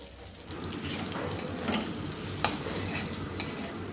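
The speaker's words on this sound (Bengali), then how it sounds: "আশা করি দেখেই বুঝতে পারছেন কত সুন্দরভাবে কষিয়ে নিয়েছি পটলগুলো।" Pointed gourd (potol) sautéing in a pan makes a continuous close sizzle, broken by occasional sharp scrapes and taps of a spatula against the pan.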